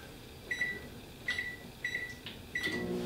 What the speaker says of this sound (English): Now, we're going to turn on the microwave for 90 seconds.